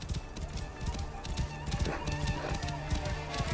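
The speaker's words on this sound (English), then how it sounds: "This must be Mered's horse." A horse in the video game Assassin's Creed Origins, its hooves clip-clopping in steady rhythm, with a short whinny amid ambient game sound and music.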